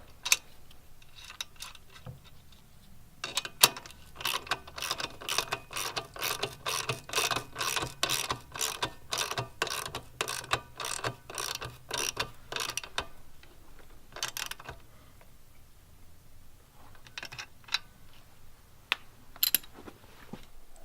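An Allen head tool turning bolts on a Grom motorcycle lowering link gives bursts of rapid, close ratcheting clicks, with pauses between runs and a few scattered clicks near the end.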